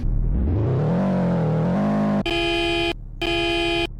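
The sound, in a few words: car engine revving in Polish Car Driving video game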